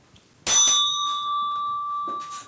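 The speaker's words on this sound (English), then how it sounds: "Can we ring the Tibetan bell?" A Tibetan bell is struck once during a seance, giving a bright metallic hit followed by sustained, pure ringing tones that hang and slowly fade, with a second soft strike near the end in a quiet room.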